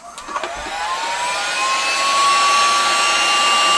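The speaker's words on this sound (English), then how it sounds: "And we're going to heat it up a little bit first." A heat gun blows hot air onto a PEX water line, a loud continuous whirring rush with a rising whine that builds steadily over a few seconds, heard alone.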